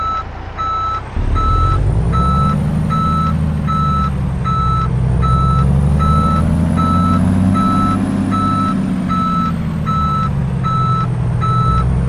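Truck reversing alarm in Euro Truck Simulator 2, a steady loud series of evenly spaced beeps repeating about once a second over a continuous low diesel engine rumble, with no talk.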